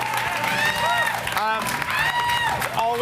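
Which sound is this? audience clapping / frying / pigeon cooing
audience clapping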